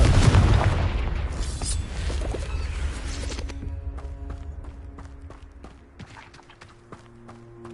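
A Confringo explosive curse in Hogwarts Legacy bursts with a loud, close boom at the start, then rumbles and fades into quieter scattered game sounds.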